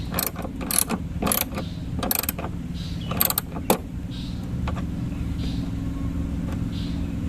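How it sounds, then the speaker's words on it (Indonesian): A ratchet tool tightens a relay mount in a car battery setup for a campervan, giving several quick bursts of clicking over a steady low hum, followed by quieter background noise. "Relenya kita pasang di sini, kita kencangkan."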